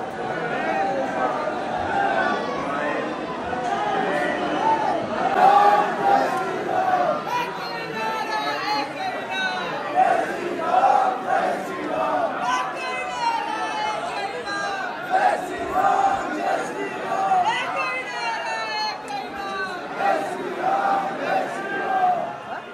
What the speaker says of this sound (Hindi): हनुमान जी का बहुत ज्यादा भीड़ है